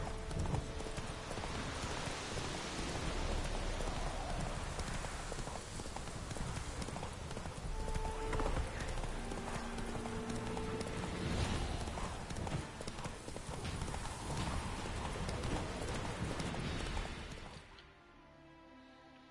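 Horse hooves clip-clop steadily in The Witcher 3 video game, a continuous close rhythm of hoofbeats layered with game sounds and music, then cutting out abruptly near the end to leave a quieter ambience.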